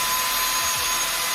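A drill boring into a garage wall while searching for studs, giving a loud, steady, close-up whining roar that lasts the whole brief moment.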